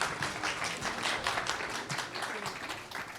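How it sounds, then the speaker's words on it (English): An audience at an AI summit gives a keynote speaker a steady round of applause, a dense wash of clapping throughout with no pauses. "Please give her a round of applause."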